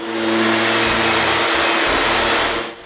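Electric orbital and band sanders work on glued-up wood in a workshop, giving a loud, steady motor whine with broadband grinding hiss that holds throughout and tapers at the end, no talk.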